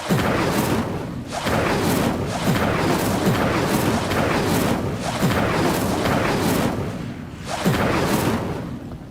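Repeated fire-spell blasts in the video game Hogwarts Legacy, loud whooshing roars and booming bursts arriving in pulses about every two seconds, with no talking.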